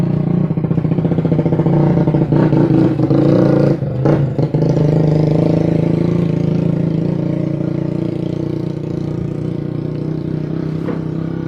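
Motorcycle engine started in a repair workshop runs loud and close, settling into a steady, even idle with a brief rough burst near the start.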